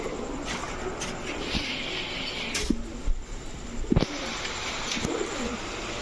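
Green neck Hungarian Budapest pigeons coo in a loft, soft throaty calls repeating amid a constant background hum with occasional sharp knocks.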